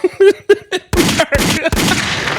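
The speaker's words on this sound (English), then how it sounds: "Gunshots for that." Several sharp gunshot bursts ring out in quick succession after a short stretch of someone talking, loud and close with a harsh, crackling tail.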